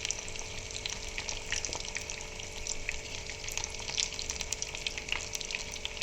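Pieces of banana flower fry in hot oil for a curry, giving a steady, even crackling sizzle that holds at a moderate level without a break and with no talking.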